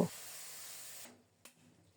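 Ridge gourd and lentils go into hot mustard oil tempered with a dried chili, panch phoron and fennel seeds. A loud, close sizzling hiss lasts about a second, then cuts off to near quiet with a faint clink.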